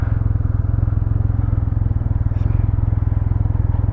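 A Can-Am Ryker Rally 2 three-wheeled motorcycle rides along with a steady, loud, low engine drone and a fast, even pulsing, heard close up with wind noise over it the whole time.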